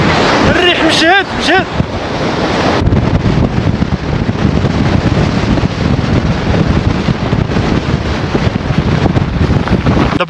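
Strong mountain wind near the summit of Bou Iblane, Morocco, roars and buffets the microphone continuously, loud and close, with a brief whistling tone near the start.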